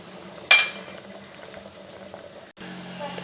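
Paruppu kulambu, a lentil curry, simmering in a pot on a low flame, giving a soft, steady bubbling hiss with a brief sharper rattle near the start.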